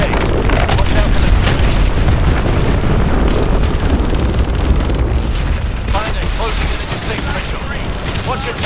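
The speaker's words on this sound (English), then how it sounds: "Lock onto those hard points and hit them with your missiles" Heavy missile explosions and booming blasts fill a Call of Duty Advanced Warfare aerial battle, a dense continuous roar of detonations and debris at high volume with game dialogue mixed in.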